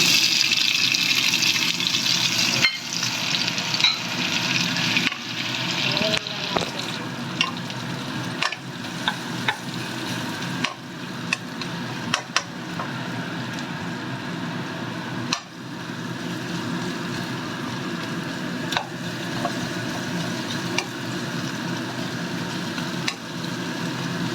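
Curry ingredients fry in oil in a home kitchen, giving a steady sizzle with scattered clinks and stirring knocks from a utensil against the pan, no one talking.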